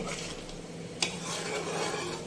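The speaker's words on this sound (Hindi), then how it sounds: "इसको हमने अच्छे से मिक्स करके तो भून लेना है" Chicken korma cooks in cream in a pan while being stirred. A constant sizzle sits under a rubbing, scraping spoon, with one sharp clink of metal on the pan about midway.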